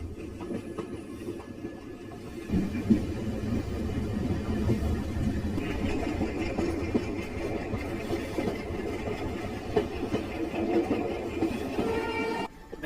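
An Indian passenger train on the Kollam to Madurai line runs steadily, its low rumbling engine and wheel noise filling the whole stretch with a constant drone and faint rattles.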